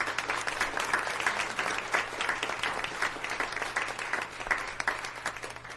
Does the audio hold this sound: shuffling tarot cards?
no